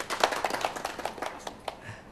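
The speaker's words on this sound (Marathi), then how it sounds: "जोरदार टाळ्या होत्या त्यांच्यासाठी।" Applause for a quiz contestant at a college event, a scattered round of hand claps at fairly close range, quick and uneven, fading out after about two seconds.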